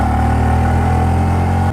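A Honda Grom motorcycle climbs a steep mountain road with its engine held at a steady, loud, close drone. A strong tonal hum runs under the engine note throughout.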